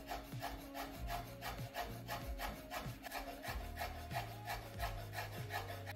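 A knife finely cuts chives on a cutting board in a steady, rapid run of close chopping taps with faint music playing underneath.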